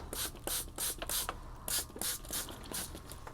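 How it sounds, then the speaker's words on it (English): Several quick spritzes from a trigger spray bottle, short hissing bursts in an uneven rhythm, close and clear with no talking. "Give it a spritz so we can hit the bottom."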